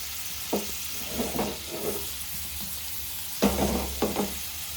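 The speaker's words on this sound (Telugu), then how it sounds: "నేను ఆయిల్ పెట్టి ఇంకా చేపలు అయితే వేసేసానండి" Fish frying in hot oil in a home kitchen pan, a steady broadband sizzle running throughout with a few louder bursts and clatters of stirring or turning.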